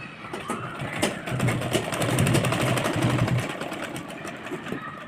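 A sewing machine stitches a netted frill blouse, a steady mechanical whir with fine rapid ticking that swells in the middle and eases off, close and alone.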